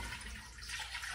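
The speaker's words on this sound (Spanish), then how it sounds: "le voy a poner 1 litro de agua" Water is poured from a container into a cooking pot over squash in a home kitchen, a steady splashing stream heard close up and alone for a brief moment.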